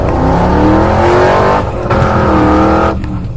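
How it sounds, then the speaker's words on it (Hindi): A cartoon car's engine roars loudly and steadily with rising revving tones, then drops slightly near the end as it drives off, with no talk over it. "खूनी जोकर सॉन को गाड़ी में बैठाकर"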